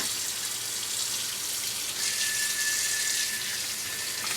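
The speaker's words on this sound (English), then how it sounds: "I want to get a nice rinse on here because we're not done." Water runs steadily from a tap, rinsing dye off a lacrosse head's mesh in a continuous, fairly loud gush with no speech.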